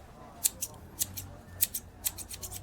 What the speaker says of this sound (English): The sharp scissors moved fast